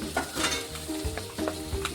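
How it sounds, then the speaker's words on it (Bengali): Ginger and garlic paste sautés in a pan, a low, continuous sizzle under repeated scraping stirs that come in short, uneven strokes. The sound is fairly quiet and close, with no talk. "আবারও একটু কষিয়ে নেব।"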